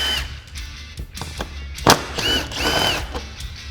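A power tool backs out T40 bolts from the fender of a Polaris RZR Pro R, giving short bursts of whirring with a sharp crack, close up amid workshop noise.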